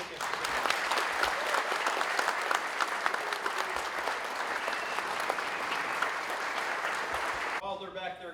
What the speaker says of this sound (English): Let's have one more round of applause for our recipients.